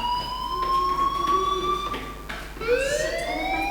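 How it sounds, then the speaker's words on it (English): Fire alarm in the video game Life is Strange, a loud rising and falling electronic wail with sustained sweeping tones that drop and restart, heard alone and close. "Hey, do you hear that fire alarm?"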